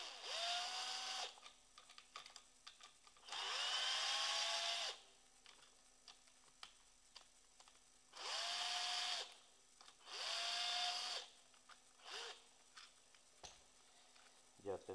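An electric impact gun loosening screws, firing in several sustained, loud whirring bursts separated by quieter pauses with small metallic clinks and handling noise, close by.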